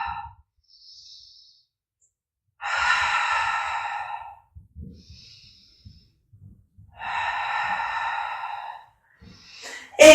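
Loud, close exhalations during a fitball abdominal workout: two long breathy blows out, separated by quieter breaths and faint movement, with no talk over them.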